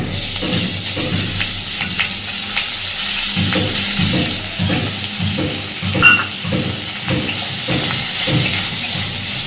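Chopped onion and slit green chillies hit hot oil for a Bengali bhola fish curry, giving a steady loud sizzle and hiss with intermittent stirring scrapes throughout.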